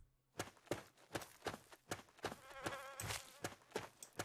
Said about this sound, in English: Oh, that's just a regular bug and not those bees.